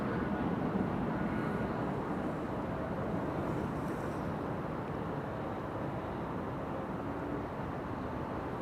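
An Airbus A330-200 airliner at Amsterdam Schiphol Airport produces a faint, steady, distant jet roar that holds evenly throughout, with no one speaking.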